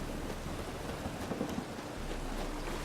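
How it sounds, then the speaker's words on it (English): Steady rain falls in The Witcher 3: Wild Hunt, a constant broadband hiss with low rumbling underneath throughout, loud and even with no talking. "Yes, it's raining."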